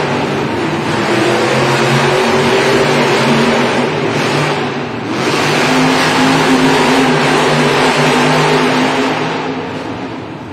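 Monster trucks race side by side at an indoor Monster Jam event in Rosemont, Illinois, their engines roaring loud and continuous, with a brief dip and then a renewed rev over about ten seconds.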